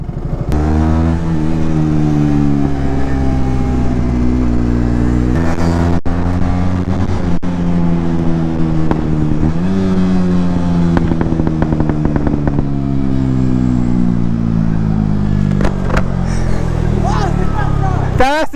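Motorcycle doing a short burnout, its engine loud and close as it revs in surging bursts over a steady idle, with tyre scrub and clatter and voices chattering around it.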